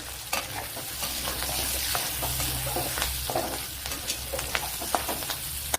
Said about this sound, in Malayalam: 10 അല്ലി വെളുത്തുള്ളി, 2 പച്ചമുളക്, ചെറിയ പീസ് ഇഞ്ചി ഇതൊന്ന് വഴറ്റിയെടുക്കണം.